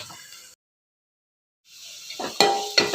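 Onion and garlic fry in a pan toward light brown for a fish kuzhambu, giving a steady sizzling hiss with stirring scrapes; the sound drops out briefly, then returns louder with two sharp utensil knocks near the end.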